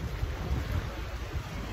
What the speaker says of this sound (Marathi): जबरदस्त खवळला आहे समुद्र.